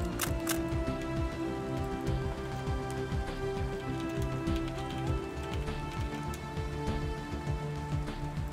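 Steady rain pattering on surfaces in the survival game Planet Crafter, a dense continuous hiss with scattered droplet ticks and a faint low hum beneath, no voices.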